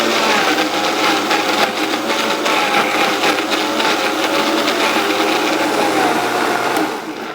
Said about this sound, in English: with this high-speed blender, it comes with this pushing stick here, and this will help me to just keep it going.